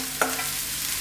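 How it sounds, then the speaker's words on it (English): Cabbage hitting a hot wok for a stir-fry: a brief burst of sizzling and clattering from stirring, followed by a quieter steady fry over one second, with no talking. "now we're going to add in our cabbage"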